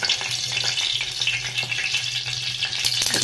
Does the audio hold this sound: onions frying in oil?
yes